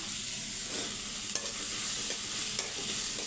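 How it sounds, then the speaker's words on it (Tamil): Onions with salt sauté in a pan, crackling in a steady near sizzle with a few sharp ticks from stirring. "இப்போ இது ஒரு பக்கம் வதங்கட்டும்"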